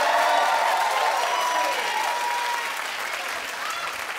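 A studio audience at a celebrity gossip show claps in a dense, even wash of applause that fades slightly toward the end, with faint voices talking underneath.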